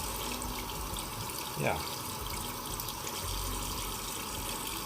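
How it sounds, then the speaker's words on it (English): Bathroom tap running steadily during a wet shave with a Merkur Futur safety razor, a continuous close hiss of flowing water with someone briefly speaking over it. "I might want to add a little bit more water."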